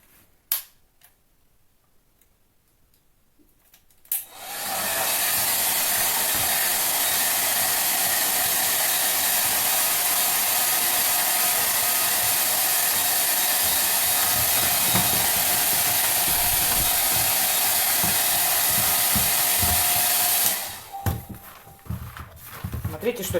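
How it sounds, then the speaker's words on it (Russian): A hair dryer on its hottest setting blows steadily on old clay-modelling tubes, a loud continuous whoosh that starts abruptly, holds for about sixteen seconds and cuts off, with quiet handling noises before and after. "А сейчас я беру фен."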